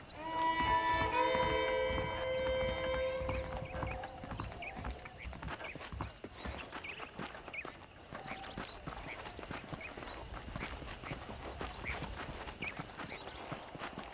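Horse hooves clip-clop steadily in the Red Dead Redemption remastered video game, a continuous rhythmic trot of fairly close hoofbeats over music fading out at the start, with no talking.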